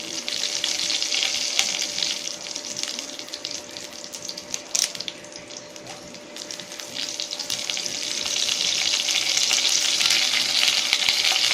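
Cumin seeds and curry leaves fry in hot oil while a tempering is made for mint-coriander chutney. A close, dense sizzle crackles steadily throughout, easing briefly in the middle before swelling again.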